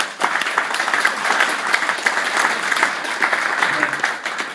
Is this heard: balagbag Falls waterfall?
no